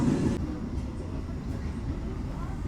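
A Probowangi passenger train runs along the rails near Wonokromo station in a steady low rumble and rolling clatter, with a brief louder hiss at the start.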